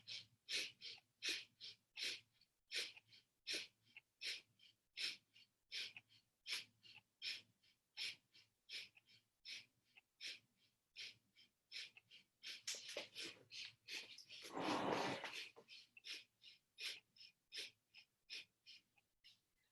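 Kundalini breath of fire: rapid, rhythmic, forceful nasal exhalations, about two per second, close and breathy, with a longer rushing breath near the middle before the quick pulses resume.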